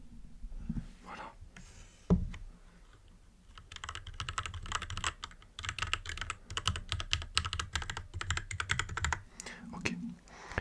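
Fast, crisp clatter of keys on a computer keyboard sits right by the microphone, with irregular bursts of typing, a few louder thumps, quiet pauses and soft speech in places.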